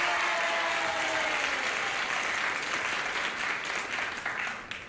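Studio audience applause on a 1974 television game show, a full, even roar of clapping that holds steady and tapers off slightly toward the end.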